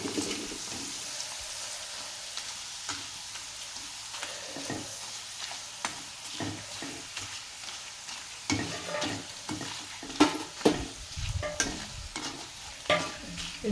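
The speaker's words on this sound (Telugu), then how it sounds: "ఇదిగోండి వేసి ఫ్రై చేద్దాం." Tomato vadiyalu (sun-dried tomato crisps) frying in hot oil, with a steady crackling sizzle that turns busier and louder toward the end as pieces are stirred and turned, with no voices.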